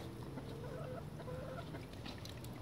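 A chicken clucks steadily and faintly against a busy background, with no talking.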